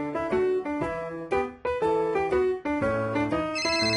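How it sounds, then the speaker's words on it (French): A cartoon telephone rings in a bright, electronic melodic pattern, loud and close, repeating in steady phrases with short gaps and no voices over it. "Ah! Le téléphone sonne."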